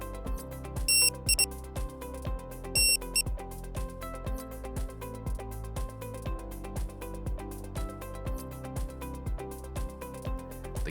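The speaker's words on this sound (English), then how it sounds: "A series of beeps confirms the mode change." A KDC1200 SmartSled scanner gives two quick clusters of short, high-pitched confirmation beeps, one early and one a couple of seconds later, bright and brief over steady background music.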